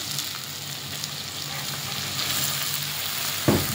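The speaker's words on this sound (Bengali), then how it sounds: "তারপর আমি দেবো এখন এই যে ফুলকপিগুলি" Cauliflower florets go into a hot pan of sizzling tomatoes, a steady close frying hiss that swells slightly midway, with a sharp clatter as the pieces drop in near the end.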